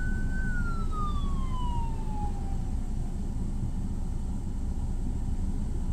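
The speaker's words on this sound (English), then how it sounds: "I see an ambulance coming" An ambulance siren sweeps past on a road, a single falling wail that starts fairly loud and fades over a few seconds, set against steady traffic rumble.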